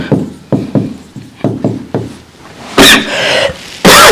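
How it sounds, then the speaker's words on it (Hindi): A man coughs repeatedly indoors, a series of close, sharp bursts in quick succession, followed by a couple of louder, harsher noisy bursts near the end. "खांसी हो रही है पता नहीं आज।"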